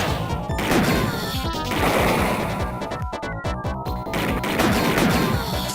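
Gunfire in the 1988 video game Snatcher comes as rapid, punchy crashing shots in dense bursts, loud and close, with a brief gap near the middle before the volleys resume.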